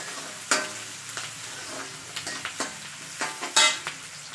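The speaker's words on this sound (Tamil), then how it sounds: "இப்போ இந்த டைமில் நம்ம சீரகத்தை சேர்த்துக்கலாம்" Cumin seeds crackling in hot oil for poha, a light sizzle punctuated by sharp spatula scrapes and taps against the pan, close and without speech.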